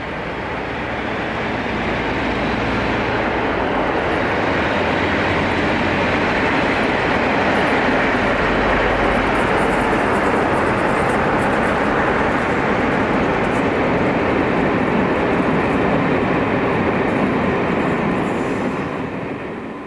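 Class 47 diesel locomotive 47851 hauling the Bristol to Newcastle passenger train, a steady loud broadband rumble and roar that holds for the whole stretch with no voices over it.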